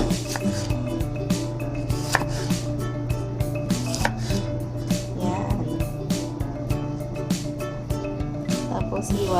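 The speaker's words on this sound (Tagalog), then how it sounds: "tapos hiwain lang po natin ng ganyan po, kaliliit." A knife slicing tomatoes into small pieces on a board, producing steady, rapid chopping taps throughout, while a person talks over the cutting.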